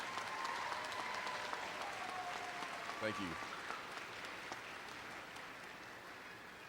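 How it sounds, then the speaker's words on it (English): A commencement audience applauds faculty and staff in a steady, sustained round of clapping that fills the hall, with a brief spoken thanks near the middle. "Please honor them with a round of applause."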